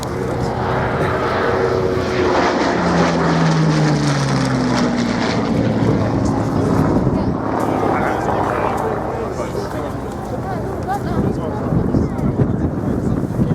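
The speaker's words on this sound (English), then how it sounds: "what moments to savour there from these two early war fighters" Spitfire and another early war fighter flying at the Shoreham airshow, a droning propeller engine note rising and falling as the aircraft pass, with wind buffeting the microphone and voices talking over it.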